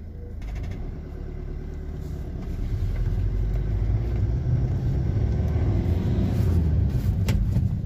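A Maruti Swift with a low boost-pressure fault and a pickup-drop problem drives along, its engine giving a low, steady rumble from inside the car that grows gradually louder.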